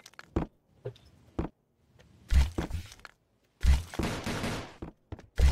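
Gunfire in the Banana Shooter game, sharp cracking shots in short bursts and a few longer rattling volleys, separated by brief silences, close and loud.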